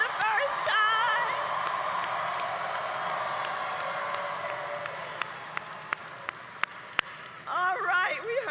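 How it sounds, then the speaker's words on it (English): A political rally crowd applauds first-time voters at a 2024 US election event. Broad applause and cheering start loud, then thin into a few sharp isolated claps, and voices rise again near the end. "Can we applaud our leaders who are voting for the first time?"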